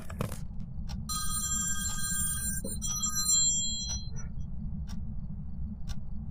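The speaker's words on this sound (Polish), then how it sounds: "Kto do mnie dzwoni?" A telephone rings with a repeated electronic bell tone, fairly faint over a steady low hum, followed by scattered soft ticks.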